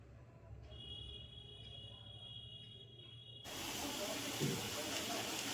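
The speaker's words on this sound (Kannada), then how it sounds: "ನೋಡಿ ವಿಜಿಲ್ ಬಂತು, 2 ವಿಜಿಲ್ ಆಯಿತು." A pressure cooker whistles loudly as veg pulao cooks, a sudden broad hissing blast of steam that rushes in midway and stays strong to the end, after a quieter stretch of kitchen hum with a thin high tone.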